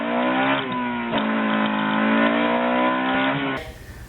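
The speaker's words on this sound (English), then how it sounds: "with the screaming sound of that K-Series VTEC" A Honda Civic's K-Series VTEC engine with a Skunk2 MegaPower race header revs hard and holds a high, screaming pitch, close and loud, before cutting off abruptly into quieter background.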